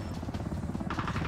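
A helicopter in the shooter game R.O.E gives off a low, fast rotor thumping, fairly faint and brief, with the blade pulses throbbing steadily.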